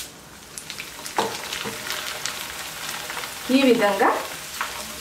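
Snacks fry in oil in a pan on the stove, a soft, steady sizzle with occasional stirring clinks, while someone speaks briefly over it.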